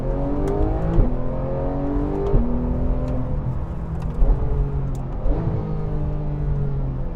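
A 2013 Porsche 911 GT3 engine revs hard under acceleration, its loud, steady note dropping sharply at several quick automatic gear changes before climbing again, with no talking.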